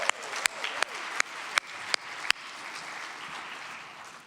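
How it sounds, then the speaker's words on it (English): An audience at an MLK celebration claps for an award recipient, with a few sharp, distinct claps standing out in a steady rhythm over softer crowd applause that carries on evenly afterward. "Let's give one more round of applause for Anna"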